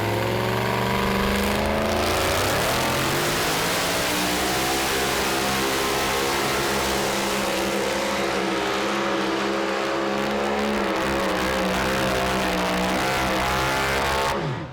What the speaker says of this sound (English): And that engine at perfect song. You could hardly hear the RPMs waver at all the way down through there.